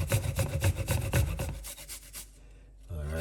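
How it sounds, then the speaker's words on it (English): Beetroot and ginger rubbed against a grater in steady, rapid rasping strokes, close and fairly loud for about two seconds before slowing and fading into quiet. "Then what we're gonna do? Grate it."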